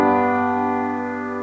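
A sustained V chord sounds after a iii chord in a harmonic progression, one struck chord held and slowly decaying, rich in even harmonics, close and alone.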